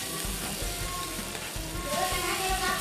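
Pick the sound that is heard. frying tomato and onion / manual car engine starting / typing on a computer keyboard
frying tomato and onion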